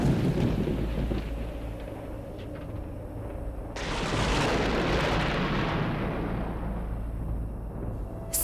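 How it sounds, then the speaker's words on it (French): A deep, rolling rumble of thunder from an approaching storm swells partway through and lingers, broad and heavy over a steady low background, with no voices. "On dirait bien qu'un orage va s'abattre d'ici peu"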